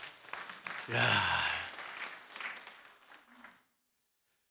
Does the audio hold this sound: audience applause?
yes